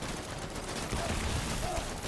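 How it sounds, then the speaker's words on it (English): Gunfire in Death Stranding, a dense, continuous rattle of shots close up, with no clear gaps between bursts. "Open fire!"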